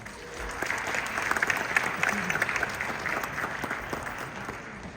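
Audience applause at an India Day grand celebration in Edmonton marking 50 years, welcoming a speaker to the stage: steady, dense clapping from a large crowd, sustained at even loudness for several seconds with no speech over it.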